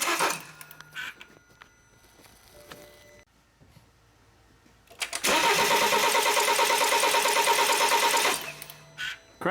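A BMW X3 engine cranking but not starting, a loud rhythmic starter churn lasting about three seconds after a quiet pause, preceded and followed by faint clicks and shop noise.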